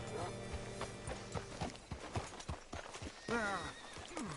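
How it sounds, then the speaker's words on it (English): Horse hooves clop in an uneven rhythm, followed by a loud, shaky whinny near the end, with faint background voices. "Hitch your horse up here."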